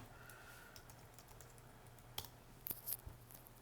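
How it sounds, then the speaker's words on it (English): A computer keyboard being typed on while entering login details, faint quick key taps with a few sharper clicks near the end, close over a quiet low hum. "You'll type in your login information. I'm going to type in mine."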